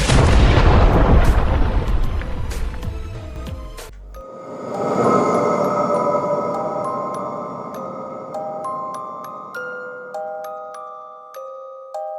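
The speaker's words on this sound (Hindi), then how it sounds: "पूरे कब्रिस्तान में जोरदार धमाका हो जाता है" A loud, booming explosion roars through a graveyard for several seconds and cuts off abruptly, leaving a shimmering, ringing tail of sustained tones.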